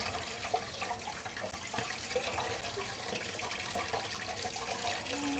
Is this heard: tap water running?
yes